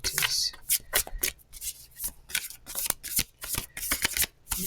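A deck of cards shuffled close by in rapid riffling bursts, a quick run of crisp flutters and taps with short pauses between, no one talking.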